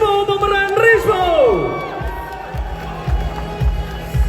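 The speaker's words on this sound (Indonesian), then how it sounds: "Sorak-sorai yang sangat kencang sekali" Loud cheering and whooping from a press conference audience for a cast member of the film GJLS, a swelling crowd roar that stays strong throughout with shouts rising above it.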